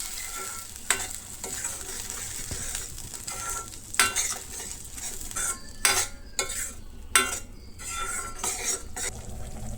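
Masala paste for egg thokku sautés in hot oil in a pan. A steady sizzle is broken by repeated clinks and scrapes of a metal spoon stirring against the pan, close up with no talking.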